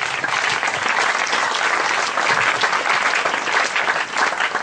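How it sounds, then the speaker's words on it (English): A church congregation gives a clap offering, with steady, dense applause from many hands filling the room at an even level from start to finish. "Give God a clap offering to that."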